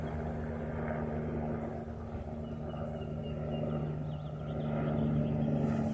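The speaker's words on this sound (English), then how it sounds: "They didn't have airplanes like I've got one flying over." An airplane flies overhead outdoors, a faint, distant rumbling drone that swells slightly toward the end, steady throughout with no voices.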